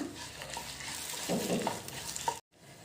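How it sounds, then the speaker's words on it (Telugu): Sesame seeds and dried red chillies fry in a pan while being stirred, a steady close sizzle with scraping spoon strokes that stops abruptly near the end. "నువ్వులు కూడా వేసుకుని కలుపుతూ ఫ్రై చేసుకోవాలి"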